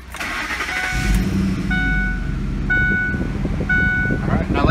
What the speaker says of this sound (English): Let's go ahead and start this thing up.